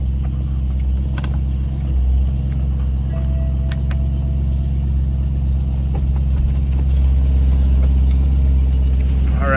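A 2010 BMW E92 M3 with a six-speed manual idles after a cold start, its engine giving a steady, loud, low rumble close by with a slight rise in level toward the end and no talking.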